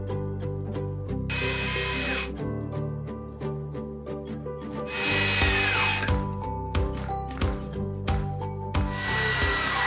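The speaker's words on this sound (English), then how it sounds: "we drilled a grid of holes with a 1/4 inch bit to create a drainage system" A power drill with a 1/4 inch bit bores holes in wood for a strawberry planter's drainage grid, a steady whine broken by repeated short bursts and pauses as each hole is drilled, close and fairly loud.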